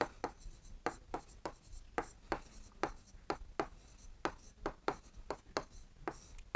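Math is being written by hand on a board or paper, giving a close, rhythmic run of quick scratchy strokes that come in short bursts with no talking.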